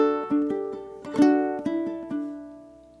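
A closely recorded ukulele plays a short melodic phrase of plucked notes that build into a ringing, sustained final chord, played alone without any voice.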